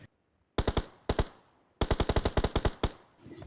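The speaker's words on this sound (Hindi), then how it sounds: "लेकिन ये मेरे AKM के फायर में आ जाता है" Bursts of AKM rifle fire in the PUBG video game, loud and close: a short three-round burst, a pair of shots, then a longer rapid volley of about nine shots and a final single shot.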